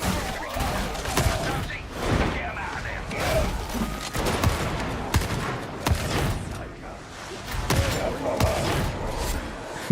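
Video game sniper gunfire cracks out as sharp, separate shots, repeated about every second or two over a steady background of game noise.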